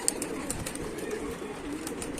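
Pigeons cooing in a pigeon loft, soft repeated low coos from several birds close by over a rustling background, with light clicking sounds and no voices.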